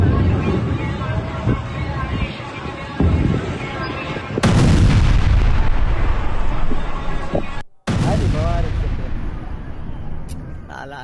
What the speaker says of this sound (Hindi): आईडीएफ की बमबारी में धुआं धुआं हुआ यमन।